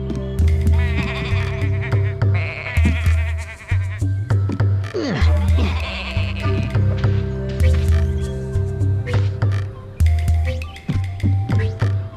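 Sheep bleat over and over in loud, nasal cries stacked on a steady rhythmic backing, with scattered clicks and thuds throughout, in the video game Tak and the Power of Juju.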